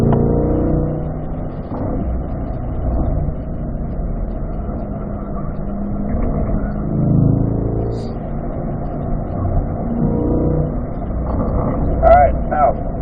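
A race car on a track drives through a corner with a steady, loud engine drone that rises and falls slightly as it sets up for the exit, while someone talks over it.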